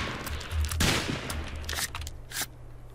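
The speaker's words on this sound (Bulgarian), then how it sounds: "Те трябва да гърмим отблизо." Gunfire in a zombie shooter video game comes as several scattered sharp bursts over a steady low electronic hum, with a louder blast near the middle and more shots later, fairly quiet overall and no talk.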